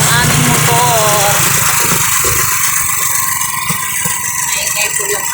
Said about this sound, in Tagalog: Pasensya na kayo po, maingay po yung aming motor.